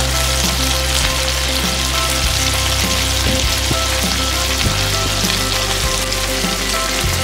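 Prawns deep-fry in hot oil until golden, a loud, unbroken sizzle and crackle that stays close and even throughout, with a low steady hum beneath and no voices.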